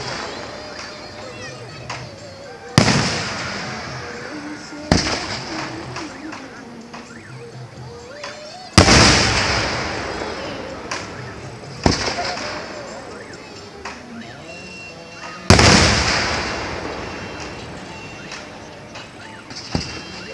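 Firecrackers bursting at a Hindu temple festival: five loud, sharp bangs spaced a few seconds apart, each trailing off in a decaying rumble over steady crowd noise and talk.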